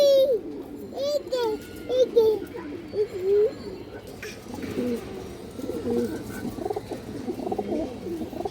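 Red Chulli pigeons, a rare breed, coo repeatedly at close range in soft, rolling calls, while a voice talks over part of the clip.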